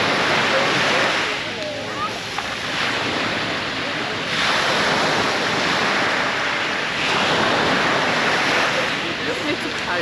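Sea waves rolling onto a beach in Barcelona, a continuous loud wash of surf swelling and receding in slow surges, with wind buffeting the microphone.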